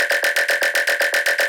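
A buzzy Serum-synthesized laser bass for jump-up drum and bass pulses in a steady, fast rhythm of about eight repeated notes, each swelling with a sweeping, phaser-like shimmer, loud and alone.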